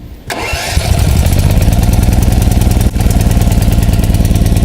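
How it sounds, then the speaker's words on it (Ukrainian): A Vulkan SC 8000 TE three-phase petrol generator (7 kW, 380 V, electric starter) cranks briefly, then catches and runs loud and close. Its steady, rough hum holds with only a momentary dip partway through. "Після запуску ми відкриваємо повітряну заслонку і генератор починає працювати рівно."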